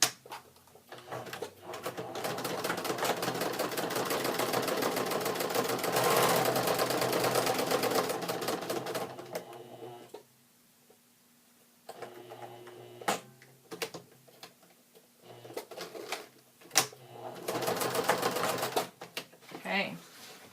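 A sewing machine stitches fabric for a pencil bag with a rapid, continuous mechanical whir for several seconds, then runs in short intermittent bursts separated by quiet gaps and faint handling noises.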